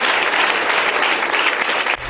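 Steady, dense applause for a speech by Pedro Sánchez at a party gathering, a continuous wash of many hands clapping that fills the whole stretch and dips only slightly near the end.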